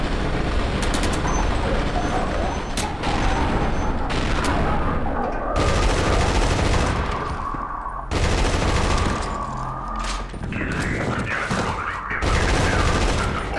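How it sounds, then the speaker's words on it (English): Gunfire in the shooter game Timeshift: dense bursts of automatic weapon fire and heavy blasts rattle continuously at close range, with little pause. "I'll just shoot you in the feet."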